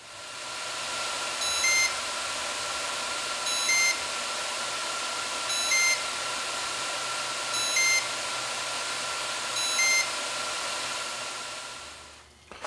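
Test equipment used on Fisker Karma battery modules repeats short, high electronic double beeps about every two seconds, five in a row over a steady hum, with no talk.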